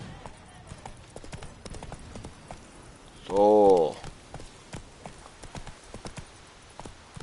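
Geralt's horse Roach in The Witcher 3, hooves clip-clopping in a quick steady rhythm, with a loud tonal whinny-like burst in the middle and a brief vocal exclamation.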